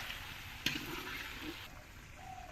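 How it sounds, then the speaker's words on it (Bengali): Chicken is stirred with spices in a pot at a village home, producing a continuous close frying hiss with soft scraping and one sharp tap early on. "এবার ভালো করে মশলার সঙ্গে চিকেনগুলোকে মিশিয়ে নিতে হবে নাড়াতে থাকতে হবে"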